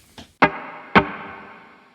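An electric guitar run through a Carl Martin HeadRoom compact digital spring reverb pedal: a faint pick, then two strong strummed chords, each ringing out with a spring-reverb tail.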